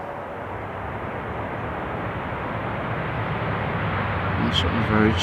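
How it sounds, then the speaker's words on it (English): A Turkish Airlines Airbus A380 arriving from Istanbul lands on Schiphol runway 18R, giving a steady, broad jet roar that slowly swells louder as it nears, with a brief voice near the end. "This is the Turkish A380 coming in from Istanbul."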